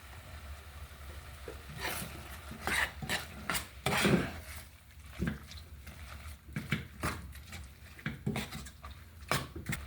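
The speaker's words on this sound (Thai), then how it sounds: "ผมก็จะใส่ใบขี้เหล็กลงไปผัดนะครับ" Cassia leaves are stir-fried in coconut milk in a pan for a Thai curry, making soft scraping and stirring sounds with irregular clatters of a utensil against the pan over a low background hiss, fairly quiet and close.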